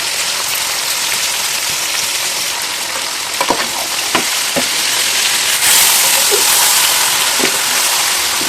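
Chicken leg pieces sizzle and fry in biryani masala, a loud continuous crackle with a few sharp pops and spatters as pieces land in the pan.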